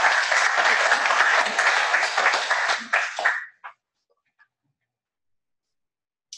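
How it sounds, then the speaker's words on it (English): Audience applause at a doctoral student colloquium, a steady dense clapping that fills about three seconds, then tapers into a few scattered claps and fades to silence. "Another round of applause."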